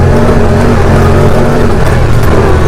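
A Honda Pioneer 1000 side-by-side UTV with a 1,000 cc engine roars loudly and steadily as it accelerates to around 38–40 miles an hour, a close, constant engine drone with wind noise.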